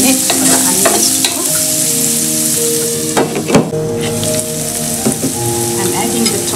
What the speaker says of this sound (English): Adding in the chilies. Closing the lid for a minute for the onions to